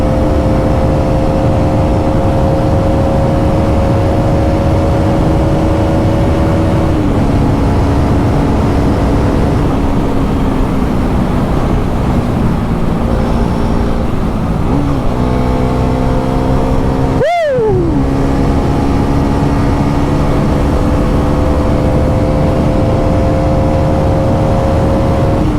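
A motorbike in full touring gear run up to high speed on the road gives a loud, continuous engine roar whose pitch climbs through several gear shifts, with a sharp wind-buffeting burst near the end.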